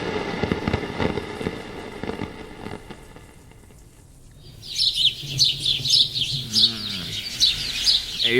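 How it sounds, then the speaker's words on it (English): Birdsong from an alarm clock fills the room after a quieter stretch, bright repeated chirps and tweets sounding in quick bursts for several seconds. "So many damn birds."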